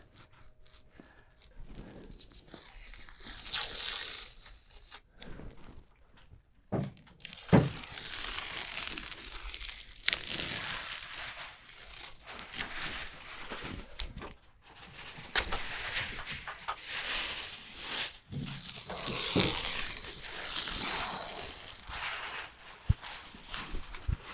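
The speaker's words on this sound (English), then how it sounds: "I'm going to pull tape as I go" Painter's tape being peeled off a brick wall while working from a ladder, with repeated close, crinkly tearing strips in irregular bursts and a few sharp snaps, no talk.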